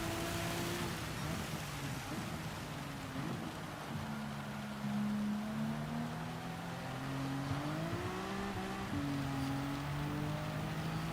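Race car engines revving and shifting through gears on the Nurburgring Nordschleife in Gran Turismo 7, with a steady wash of rain hiss underneath, continuous and fairly loud with no talking.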